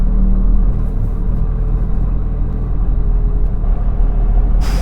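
A car fitted with a lightweight flywheel pulls away from rest in a car park, a deep, loud engine rumble as the clutch feeds out, steady and close.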